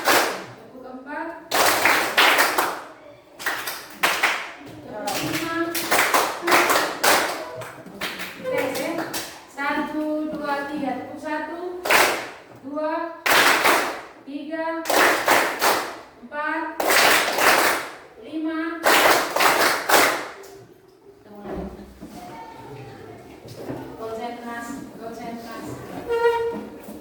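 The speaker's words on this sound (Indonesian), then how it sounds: "Tepuk 1, 2, 3, 4, 5," A class of children claps hands in a counted rhythm, sharp bursts of sharp claps alternating with the group chanting numbers aloud, loud and close in a classroom.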